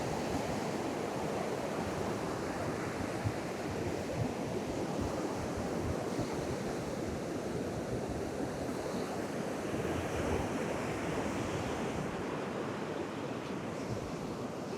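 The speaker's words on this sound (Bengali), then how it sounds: "সমুদ্রের গর্জন" Ocean waves roar steadily onto the beach at Pondicherry, a dense, continuous rumbling wash mixed with strong wind buffeting the microphone, loud and unbroken throughout.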